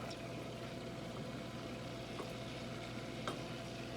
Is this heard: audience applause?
no